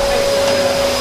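A vacuum cleaner hoovers a room in a house being renovated, a loud steady whine with a constant tonal hum, close by and uninterrupted.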